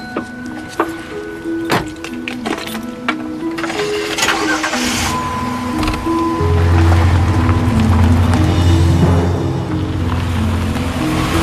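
A car engine cranks and catches, settling into a loud, steady idle hum after some earlier clicks and rustles, with no voices present.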